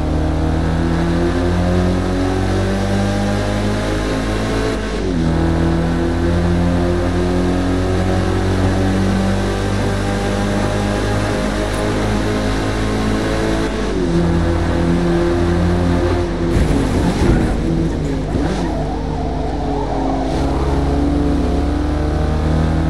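A Mazda race car in Forza Motosport at Laguna Seca, its engine droning loud and steady with harmonic tones that rise and fall through gear changes, and a rougher stretch of engine noise near the end as the car brakes.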